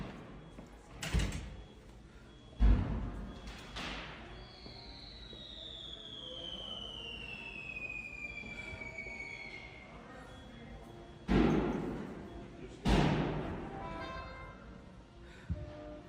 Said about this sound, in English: So you hear the fireworks, and I'm pretty sure they're coming from the vehicle.